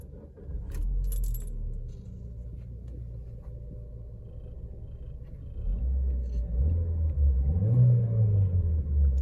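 A Peugeot 406 sedan from the 1990s is started after jangling keys, the engine catching with a deep rumble, idling, then revving up briefly close by, with no talking.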